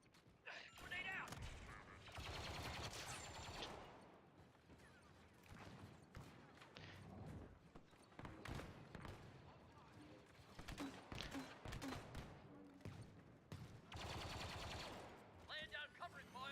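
Gunfire in Outriders, dense rapid bursts of shots and mechanical clatter in loud clusters, with a voice speaking over part of the action.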